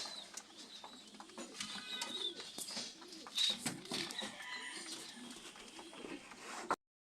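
Pigeons coo softly and repeatedly at feeding time, a low, gentle, murmuring chorus that goes on steadily at close range and ends abruptly.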